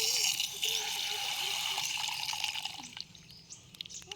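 River water rushes and splashes steadily while crab-catchers work in the stream, a broad continuous wash with a few nearby splashes and drips, and bird calls sound faintly over it.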